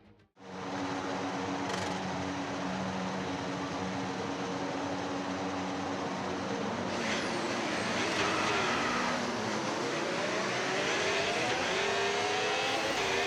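Formula 1 race cars idle and rumble together on the starting grid of an F1 video game, a steady loud engine drone with rising revs near the end.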